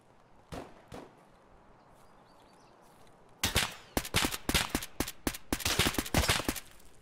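Gunfire in the Escape from Tarkov shooter game: two isolated shots early, then a rapid irregular burst of sharp, loud shots in the second half, close by and without talk.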